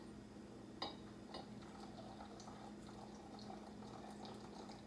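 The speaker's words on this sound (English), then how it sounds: "I'm actually going to add a little bit more water to this brew" Water trickles into a one-gallon glass carboy of rosemary black pepper mead, a faint, steady pouring and splashing with a small knock near the start, quiet and close.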